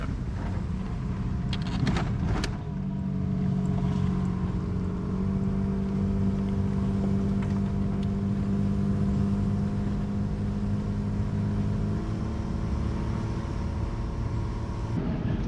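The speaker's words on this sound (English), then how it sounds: "Yeah, 4-wheel high and just in first, that wasn't too bad." A four-wheel-drive car crawls along a forest track in first gear and 4-wheel high, its engine a steady low drone with a few brief knocks near the start and wind rumble throughout.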